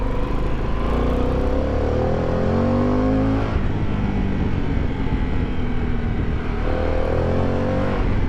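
Harley-Davidson Pan America 1250 adventure motorcycle being ridden on the road, its steady engine drone and wind rush continuous and loud throughout, with gear-related pitch shifts and no talking.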